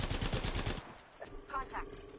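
Rapid bursts of gunfire from Apex Legends crackle loudly through the first second, then give way to scattered fainter shots and game effects.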